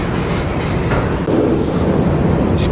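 A freight train rolls past close by with a loud, steady roar and rhythmic clatter of wheels on rails, continuous throughout with no voices.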